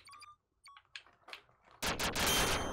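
Rapid automatic gunfire bursts out loud and dense in the 2D Duck Game after a few scattered quieter clicks and blips, a sustained close volley to the end.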